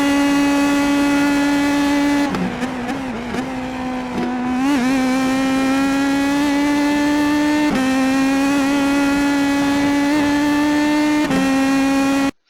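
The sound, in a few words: IndyPro2000 race car engine at Monza in iRacing video game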